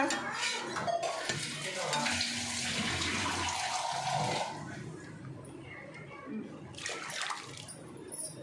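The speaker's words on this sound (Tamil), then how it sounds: "உங்களுக்கு தண்ணி ஊற்றணுமா?" Water pours steadily into a cooking pot of chana masala for puri in a home kitchen, a rushing splash lasting about four seconds, then quieter clinking of pots and utensils.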